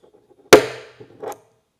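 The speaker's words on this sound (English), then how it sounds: "We've used the punch to make a little dent in there" One sharp metallic tap of a center punch denting metal rings out close by, followed by a couple of faint knocks and a short scraping sound.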